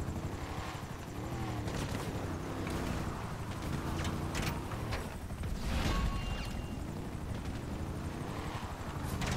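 A helicopter in the video game GTA V Online thrums continuously and loudly close by, its rotor roar steady throughout with a few brief knocks and bangs over it.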